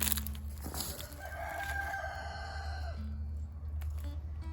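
Backyard chickens scratching about in a winter garden, with clucking and a drawn-out crowing call from a rooster rising over a steady low rumble of background noise.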